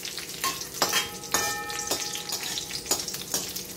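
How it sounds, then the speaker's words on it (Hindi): Walnuts sizzle lightly in a pan for a sweet, under a few distinct scraping stirs and brief taps of a spoon, close and clear with no voices. "थोड़ा सा अखरोट ले रही हूँ, इसको भी थोड़ा सा हल्का सा फ्राई कर लूंगी"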